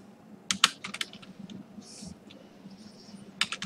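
Typing on a computer keyboard, with scattered close key clicks in short bursts and pauses between them. Fairly quiet, with no talk.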